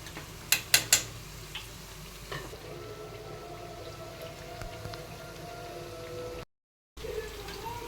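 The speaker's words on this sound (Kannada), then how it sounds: "ಇವು ಚೆನ್ನಾಗಿ ಬೇ ಇದಾಗಬೇಕು ಎಣ್ಣೆ ಒಳಗೆ ಫ್ರೈ ಆಗ್ಬೇಕು" Chana dal masala vadas deep fry in hot oil with a soft, steady bubbling sizzle, a few sharp crackles and pops near the start, then a brief gap in the sound.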